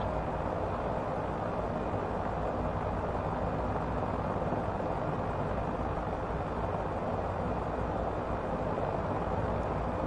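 Engine and rotor drone of a Hiller UH-12B helicopter in Microsoft Flight Simulator 2024, flying fast in an outside view, a constant dense roar that holds unchanged throughout without speech.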